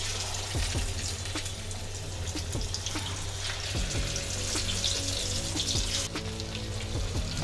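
A piece of pomfret fish fries in a little oil on a flat iron tawa, giving a steady close crackle and sizzle with scattered pops under a low background hum, no talk.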